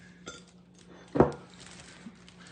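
A small metal spoon gives a single bright clink against a tea cup, close and fairly quiet, with faint kitchen background around it.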